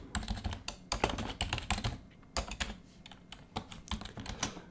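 Rapid typing of PHP code on a computer keyboard: dense, close bursts of crisp key clicks with short pauses between runs and no talking.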